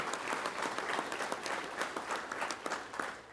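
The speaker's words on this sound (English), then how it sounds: "So let's give it a round of applause for being here today." A crowd applauding at a welcome session of a gathering in Austin: continuous, fairly soft clapping from many hands, heard from a distance, with no speech over it.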